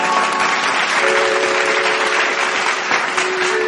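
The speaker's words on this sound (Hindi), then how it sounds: "आलोक कुंडू जोरदार करताली सहित स्वागत करवा" A live stage audience breaks into dense, loud, continuous clapping to welcome a young folk singer, with faint sustained musical tones running underneath.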